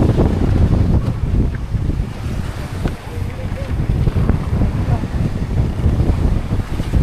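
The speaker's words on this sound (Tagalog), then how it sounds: "Malalaki ang alon habagat." Strong monsoon wind roars across the microphone at sea while big waves churn around a service boat, a loud continuous rumbling wash with gusty surges throughout.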